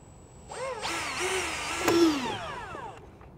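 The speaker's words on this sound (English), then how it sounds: "we'll drill a small hole in here" A small power drill whines up in pitch while drilling a small hole for a snorkel install, runs steadily for a couple of seconds, then winds down, close by with no talking.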